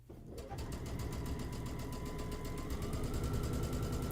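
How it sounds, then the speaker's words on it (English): A home sewing machine chain-pieces quilt pieces, running at a steady, fast, continuous stitching whir close by, with no talk. "And I'm just doing my standard chain piecing."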